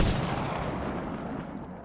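Gunfire in a team shooter video game: a loud, dense burst of rapid shots and blasts that starts at full strength and tapers slightly, with no voices over it.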